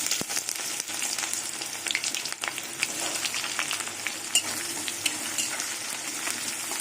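Chopped onion fries in hot oil seasoned with panch phoron and dried red chillies, a steady close sizzle with scattered crackles and occasional stirring clicks throughout.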